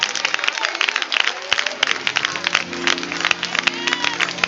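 A church congregation at an anniversary musical claps loudly and continuously, with a dense patter of hands, scattered cheers and a sustained tone from voices or instruments mixed in.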